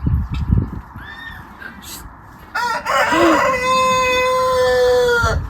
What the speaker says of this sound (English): That was the weirdest crow I've ever heard on this farm.